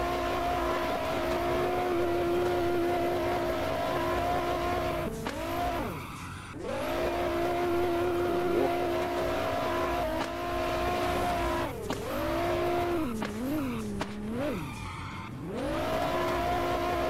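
Nissan R35 drifting in Roblox, its engine droning steadily at high revs with repeated tire squeals and dips in pitch as the car slides, loud and continuous.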